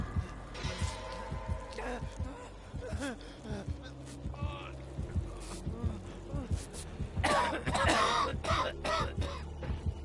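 Video game characters coughing in a zombie survival horror match, several short hacking coughs and throat clears scattered among other game noises, with a louder burst of activity near the end.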